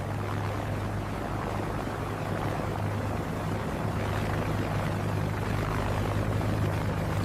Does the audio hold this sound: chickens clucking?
no